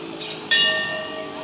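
Bell rung by hand at Haw Par Villa in Singapore, a single bright metallic strike that rings out and slowly decays over a quiet outdoor background.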